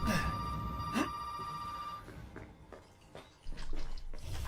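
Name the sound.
telephone ringing in Resident Evil 7 video game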